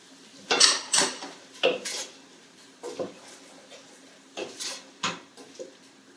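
Sweet potato lentil soup stirred in a pot with spices, a series of distinct utensil scrapes and clinks against the metal, spaced irregularly and heard close over a quiet background.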